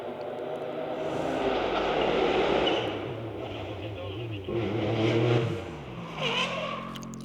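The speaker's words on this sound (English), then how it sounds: "I hear an engine starting up around the corner, which makes a lot of noise" On a road in the Vosges, France, an engine starts up around the corner, and its revving rises and falls in loud swells while people talk.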